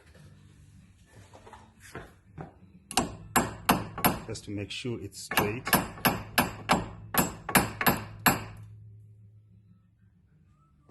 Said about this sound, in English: I tap it with a hammer just to start it